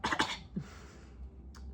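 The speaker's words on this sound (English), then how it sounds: "Cough, cough." A person gives two quick coughs close up, followed by a quiet pause and a faint breathy trailing sound.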